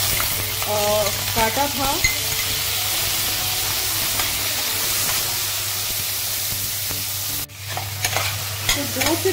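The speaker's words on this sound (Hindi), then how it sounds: "तो 2 से 3 मिनट में इसको अच्छे से अभी भूनूंगी।" Tomato, ginger and cumin frying in a pan, with a loud, continuous sizzle and hiss, bursts of stirring scrapes, and a sudden drop and swell in the crackle partway through. Someone speaks briefly in Hindi.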